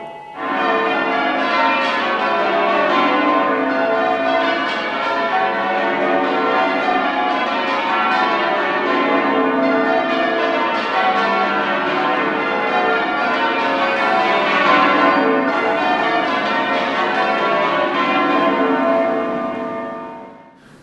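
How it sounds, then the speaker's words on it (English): Church bells ring changes continuously in overlapping peals, a dense, steady cascade of tolling tones that carries on for the whole stretch before fading at the end. "Church bell ringing."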